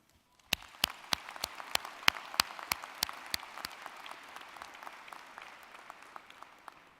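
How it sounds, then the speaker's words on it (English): A university commencement audience bursts into applause after a brief quiet, with sharp individual claps up front blending into a steady wash of clapping from a large crowd, somewhat distant and moderately quiet. "Please join me in a round of applause for all they have done for you."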